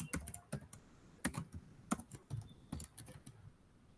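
Computer keyboard clattering as code is typed, with quick bursts of keystrokes and short pauses, fairly close and alone without talk.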